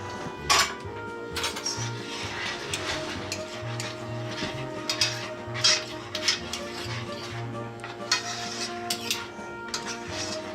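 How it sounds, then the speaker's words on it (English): A spoon stirs thick fudge with marshmallow cream in a cooking pot, giving repeated scraping and clinking knocks against the metal in an uneven rhythm, close by and moderately loud. "You want me to stir it while you're scooping it"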